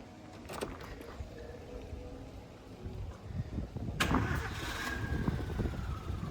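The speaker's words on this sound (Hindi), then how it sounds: "ओके गाड़ी स्टार्ट कीजिए।" Car engine, rebuilt after being opened up three times, cranking and catching into a running idle after a few quiet seconds, rising in level midway and settling into a steady hum.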